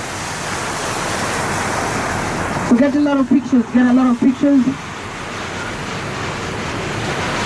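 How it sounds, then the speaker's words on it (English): Armani fountain in Dubai, at night near the Burj Khalifa, gives a steady broadband rush of splashing water, loud and constant, with someone speaking briefly over it. "the water fountain that you're observing around you"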